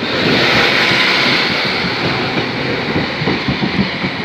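A train pulls into Doncaster station, a steady loud rumble of wheels and rail noise with faint clickety-clack beats, heard close and continuous with no talk.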